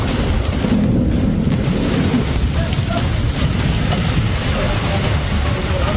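Heavy rain pours over flooded streets in Surat, India, a continuous dense hiss with low rumbling underneath, steady and loud throughout with no voices.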